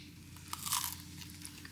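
A short, crisp crunch comes from a bite into a four cheese pizza without tomatoes in Italy. It is heard close up over quiet room noise.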